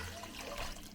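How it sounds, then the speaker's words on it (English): Water pours into a pot holding brine seasonings, peppercorns and Montreal steak seasoning, a brief close splashing rush of liquid lasting about a second, with no talk over it. "I'm gonna just add in 1/2 gallon of water"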